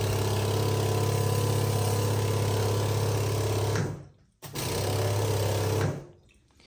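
A Mytee 8070 vacuum cleaner under repair runs with a loud, steady droning hum, cuts out briefly, starts again, then shuts off.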